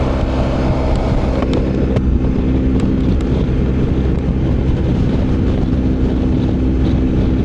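A 2025 BMW R 1300 GS Adventure cruising on a highway, with loud steady wind rush and engine drone heard from the rider's position and no talk.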